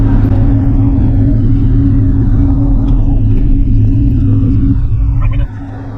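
A 42-inch Construction Attachments brush cutter on a mini excavator grinds up a pile of storm-fallen sycamore sticks, a loud, steady low roaring churn that drops off sharply near the end.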